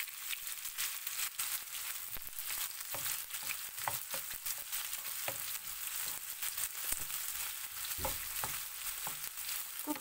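Sliced onion sizzling steadily in hot oil with fennel seeds in a pan, a dense continuous frying hiss with occasional stirring clicks and no voices.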